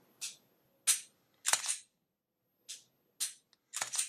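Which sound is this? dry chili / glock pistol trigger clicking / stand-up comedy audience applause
glock pistol trigger clicking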